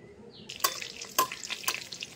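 Whole cumin crackles quietly in a pan while a spoon stirs, with a few sharp scraping strokes spaced about half a second apart.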